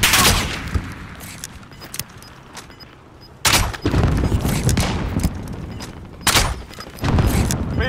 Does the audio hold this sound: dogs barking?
no